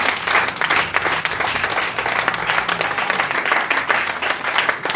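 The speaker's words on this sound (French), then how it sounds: "Clap for Jesus." A church congregation claps together in a steady, dense burst of applause that fills the room and carries on without a break, with faint voices mixed underneath.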